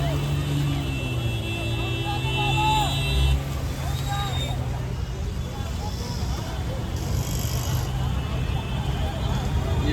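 A motorbike pushes through deep flood water at Shilphata with its silencer fully submerged, a low engine hum and splashing mixed into a loud crowd of voices and passing traffic at the flooded junction.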